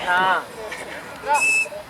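Sharp whistles call out to a player during a fourth-division league football match, Real Santa Cruz vs Phillip Morris: a short shrill whistle, then another rising whistle a second later, with voices around them.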